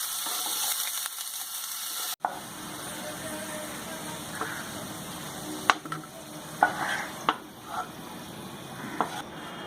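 Potato pieces frying in hot oil in a wok on the stove, a steady soft sizzle broken by sharp clicks and scraping knocks of a utensil stirring against the pan, with no talking.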